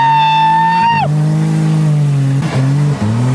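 A Ford Falcon car revs hard and skids during a car-wrecking session, the engine whine climbing, then dropping, then surging again, close and loud, with voices shouting over it.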